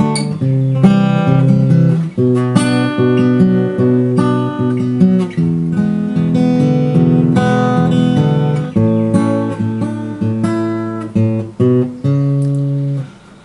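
Acoustic guitar fingerpicks the verse chords of a song, plucked bass root notes alternating with higher strings in a steady, full, close pattern, played alone with no talk.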